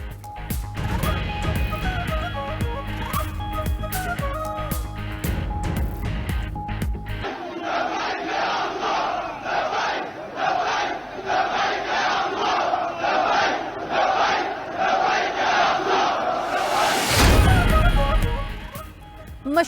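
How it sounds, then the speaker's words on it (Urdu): Crowd of Palestinians chanting slogans at Al-Aqsa Mosque in Jerusalem, a dense roar of many voices with rhythmic shouted chants, loud and sustained throughout, swelling near the end. "ہزاروں فلسطینی مسجد اقصی پہنچے اور نعرے بازی کرتے رہے"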